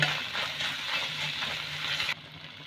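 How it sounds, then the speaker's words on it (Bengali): Spice paste of chili powder, salt and sugar sautés in a pan, giving a steady, close sizzle and frying hiss that cuts off abruptly near the end. "একটু লঙ্কার গুঁড়ো দিলাম, একটু নুন দিলাম, আর স্বাদ অনুসারে একটু চিনি দিয়ে মশলাটাকে আমি একটু ভালো করে কষিয়ে নেব"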